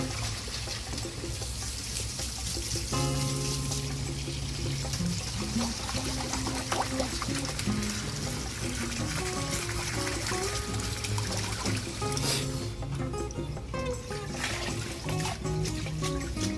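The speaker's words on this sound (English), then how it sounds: "So this type noodle have to wash cold water." Cold running water pouring over cooked udon noodles as they are rinsed in a kitchen, a steady close splashing and trickling stream that continues throughout with shifting clatter and no talk.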